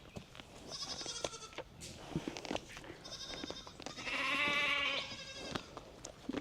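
Several goats on a homestead bleat repeatedly at close range, with one loud, drawn-out bleat near the middle, over light rustling and shuffling.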